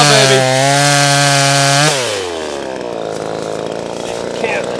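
A NEO-TEC 25cc chainsaw with a 12-inch bar revs loud and close, holding a high engine whine, then drops in pitch and bogs as the chain bites into a log, grinding steadily through the cut.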